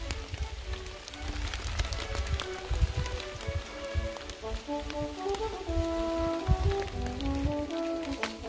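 Light rain falls on a wildflower-lined mountain trail on Minjujisan in Yeongdong, a soft steady patter of scattered drops with faint tonal chirps mixed in, and no talking.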